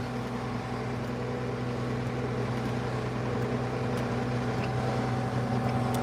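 A Case IH Magnum 7220 tractor engine runs steadily while subsoiling a field, a constant low droning hum with a faint rattle and no talk.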